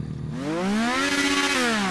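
In-game car engine revving in GTA roleplay, a tuned Mercedes G63 or Demonhawk, loud and close, its pitch climbing steadily then holding high before easing off, a buzzy harmonic growl across two seconds with no talk.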